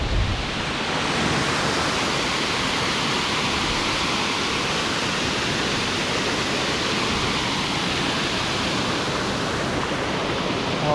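A waterfall in dense forest roars in a steady, unbroken broadband wash of falling water, loud and enveloping throughout, with no voices.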